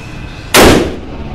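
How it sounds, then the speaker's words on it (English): A single gunshot from a .460 S&W Magnum revolver at a shooting range: one loud, sharp blast that fades quickly into the quiet background. "I'm going to shoot it again before I bring it back"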